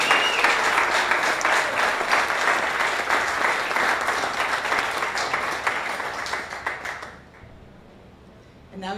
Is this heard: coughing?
no